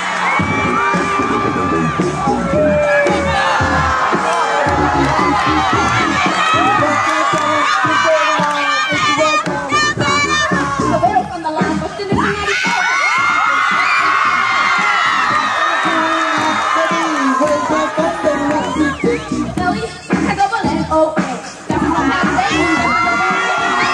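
A large crowd of students at a high school event cheers, whoops and shouts continuously and loudly, with children's voices rising in waves throughout.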